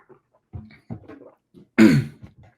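A man gives one sharp, loud cough up close, after a few faint murmurs and breaths.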